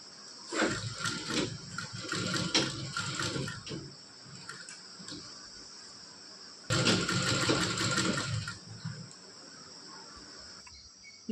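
A sewing machine stitching a blouse piece runs in two fast, buzzing spells separated by a quiet pause, close by and with no speech.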